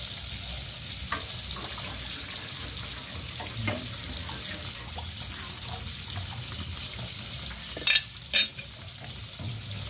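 Continuous soft sizzling of galunggong fish frying in oil, with a few faint clinks and brief scraping sounds over it.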